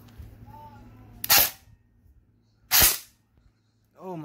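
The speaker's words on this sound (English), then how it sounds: "let's just get on to the shooting, and I will be shooting in semi-auto" Two sharp, separate shots from a Cyma M16A3 airsoft rifle firing semi-auto, each a crisp snap with a quiet pause between, over a faint background hum.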